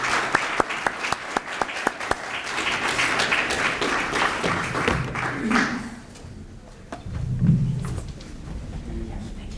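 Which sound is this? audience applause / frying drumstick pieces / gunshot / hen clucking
audience applause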